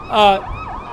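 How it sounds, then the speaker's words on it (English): An air raid siren wails briefly, a loud rising-and-falling tone that fades quickly into a lower, wavering drone. "sirens were going off and people went in their protected areas"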